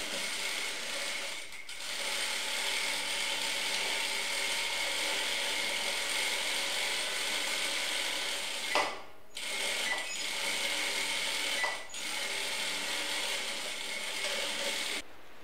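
Steady mechanical whir and rattle of a sewing machine stitching the seams of a moulage dress-form mannequin, running continuously and close with two brief pauses.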